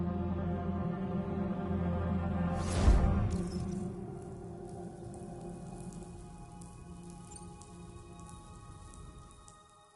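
Steady rain falls through a Death Stranding 2 game scene, a continuous patter over a low droning hum, with a brief louder whoosh near the start before settling back to an even wash.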